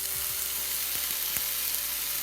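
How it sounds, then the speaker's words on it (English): Minced garlic sizzles in a tablespoon of hot oil in a skillet, a steady close hiss with a few faint scrapes and taps of a utensil, no voices. "I heat 1 tablespoon oil in the skillet and I drop in my minced garlic"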